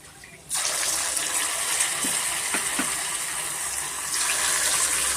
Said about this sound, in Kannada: ಎಣ್ಣೆ ಕಾದಿದೆ ಈಗ ನಾವು ಒಂದೊಂದೇ ಪೀಸು ಎಣ್ಣೆಯಲ್ಲಿ ಬಿಡೋಣ